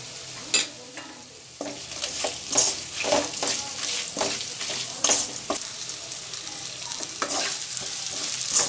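Onions and spices are sautéed and stirred in a pan while Pallipalayam chicken fry is being made, a constant close sizzle broken by repeated scraping strokes of a spoon and a few pan knocks, with no voices.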